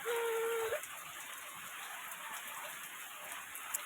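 Rain falling steadily around a house, a soft even hiss that fills the whole stretch at low level, opened by a brief tonal squeak or chirp.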